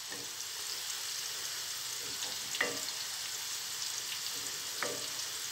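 Dried mint sautés in hot oil for a yogurt soup sauce, a soft, even sizzle and crackle holding steady throughout, with a few faint scraping stirs and no talking.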